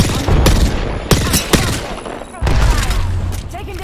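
Rapid bursts of gunfire in the video game Apex Legends crack out in quick volleys with sharp single shots between them, loud and close, mixed with brief in-game voice callouts.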